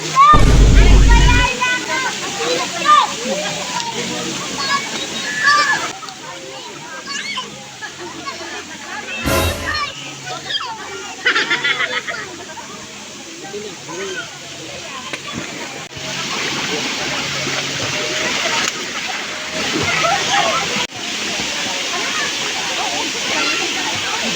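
A small waterfall at a swimming spot gives a steady rushing hiss with splashing water throughout, while people talk and call out over it.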